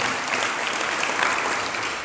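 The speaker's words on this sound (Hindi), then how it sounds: "आप लोग ताली बजा रहे हो" An audience claps steadily and densely for about two seconds at a religious discourse, a broad even wash of hands with no voices on top.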